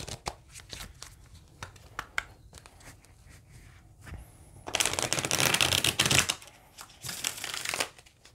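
A deck of tarot cards is handled and shuffled: first a series of separate crisp card taps and flicks, then a loud, sustained riffle-and-bridge shuffle close to the microphone, followed by a shorter second burst.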